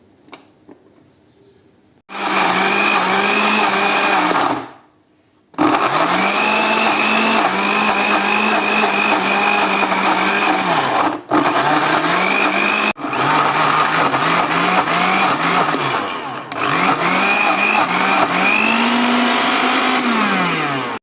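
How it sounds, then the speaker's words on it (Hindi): A blender runs loud and steady, grinding ginger and garlic with oil into a paste, its motor pitch rising and dipping with brief pauses and restarts. "अब इसको आप ब्लेंड कर लें अच्छी तरह।"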